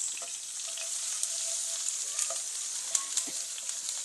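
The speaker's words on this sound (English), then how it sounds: "So guys, our onions, just put in our onions." Onions sizzle steadily in a frying pan for a noodle dish, a continuous bright crackle with light stirring clicks and occasional pops, close up and without speech.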